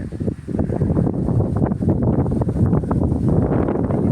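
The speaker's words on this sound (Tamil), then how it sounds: "காற்றடிக்குது." Steady gusting wind roars outdoors, with a dense rushing texture that suggests air moving through foliage, continuous and fairly loud.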